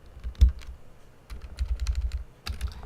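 A computer keyboard clacks under quick bursts of key presses, close and crisp, with a short lull in the middle before another flurry of typing.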